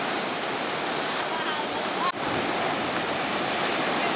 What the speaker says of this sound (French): Avec des vagues là-bas qui fouettent.